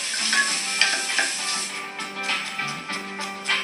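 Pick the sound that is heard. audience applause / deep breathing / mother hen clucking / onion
onion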